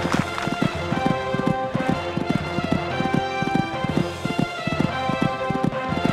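A horse gallops over a cross-country horse trials course in Sydney, its hooves drumming in a steady, rapid rhythm close by and fairly loud, with faint background commentary.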